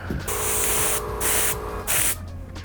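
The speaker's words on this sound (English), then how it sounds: "finish up laying down the yellow using his little airbrush" Short bursts of an airbrush spraying yellow paint on a custom Warhawk piece, three close hissing sprays separated by brief pauses, with faint clicks of the trigger in between.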